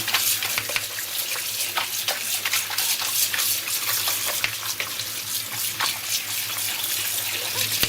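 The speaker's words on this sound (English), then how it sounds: "I'm gonna pour them into a colander right now and we're gonna rinse them ever so gently." Salted fish fillets are rinsed in a colander under a running tap, producing a steady loud splashing hiss of water with occasional sharper drips and clatter, close and continuous with no talk.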